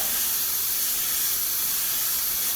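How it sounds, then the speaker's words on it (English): An airbrush sprays paint over a rivet mask on a metallic model surface, giving a steady, close, bright hiss that holds evenly throughout with no talk. "notice I'm spraying off of the mask"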